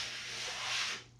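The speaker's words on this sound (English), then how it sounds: "I'm going to get to work sanding this" Hand sanding of body filler on a 1934 Ford Coupe gives a short, steady, faint abrasive rub that fades out near the end.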